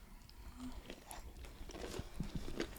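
Close-miked chewing and biting of lemon-flavored boneless chicken wings from Wingstop, with wet, crunchy mouth sounds repeating irregularly near the microphone.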